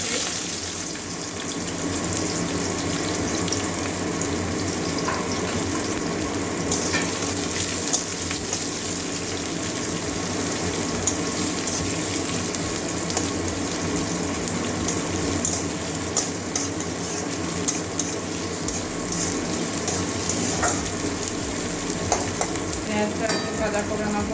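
Chopped onion frying in a pan, a dense continuous sizzle that stays loud and even throughout, with a few faint clicks and no voices.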